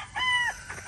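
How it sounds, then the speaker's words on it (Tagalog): A rooster crows once at a farm in the late afternoon, a single loud, fairly close call that rises and holds briefly before trailing off, with no one talking. "So check ko muna itong aking mga manok."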